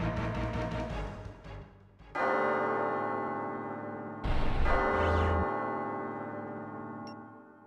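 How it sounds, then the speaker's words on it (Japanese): A deep bell tolling in the video game Sakura Taisen 3, struck three times about two seconds apart, each strike loud with a long ringing, shimmering decay. "あの鐘が 5回鳴るまで。"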